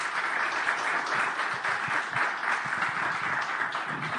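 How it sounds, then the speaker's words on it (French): Sustained audience applause closing a cybersecurity round-table panel discussion, steady dense clapping throughout at moderate distance with no talk over it. "on peut les applaudir"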